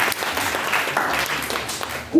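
A church congregation claps in a sustained burst. The hand-claps are dense and moderately loud, and they fade slightly before a short sound at the end.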